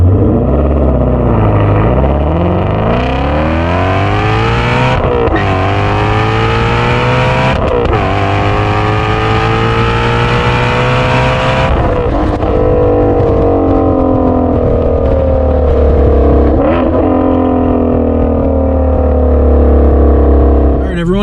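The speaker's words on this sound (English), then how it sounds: "put one by the exhaust too so we can really hear it, and then let's just take this thing for a rip" Ford Mustang Shelby GT350 exhaust roaring while driving, loud and close with repeated rising revs through the gears and steady droning between shifts.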